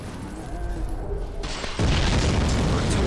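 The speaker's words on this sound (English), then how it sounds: "and then explosions are gonna start" Heavy booming blasts in Dark Souls rumble in a dense roll, swelling louder partway through into a sustained, crackling wall of explosions.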